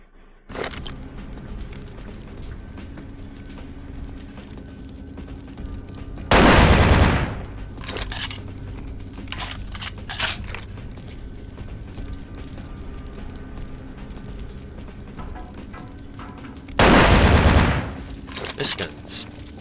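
Gunfire from the video game Vampire The Masquerade: Bloodlines: two loud, roughly one-second bursts of shots about ten seconds apart, standing out over a steady low game background hum with scattered fainter clicks and thuds between them.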